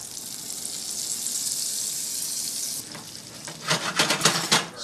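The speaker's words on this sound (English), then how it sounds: "so we're getting the butter and the sugar going" Two ounces of unsalted butter and two tablespoons of sugar sizzle in a pan to caramelize apples: a steady, bright frying hiss, then a run of louder stirring scrapes and spatters toward the end.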